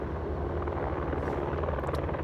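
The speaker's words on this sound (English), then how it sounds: "See how the helicopter's just hovering right there?" A helicopter hovers overhead with a steady, loud, low rotor rumble and broadband wash that runs unbroken throughout, with no talk.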